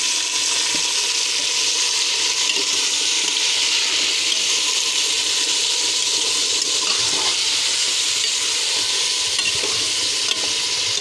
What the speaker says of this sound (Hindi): प्याज ब्राउन हो चुका है। अब इसमें शामिल कर देंगे बीफ।